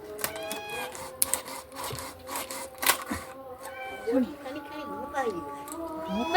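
A cat mews in a series of short, rising calls in a home kitchen while a large fish is being cut, the meows fairly close and threaded among overlapping household voices.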